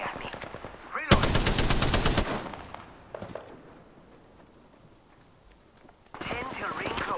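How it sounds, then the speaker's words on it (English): Enemy gunfire in the battle royale shooter Apex Legends: a loud rapid automatic burst lasting about a second, then fainter shots and footsteps, followed by another burst of activity at the end, with in-game voice lines heard among the firing. "They're shooting at me."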